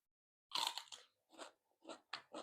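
Skewered cockles eaten with fresh vegetables give close, crisp crunching bites in five or six separate bursts, with short pauses between each chew.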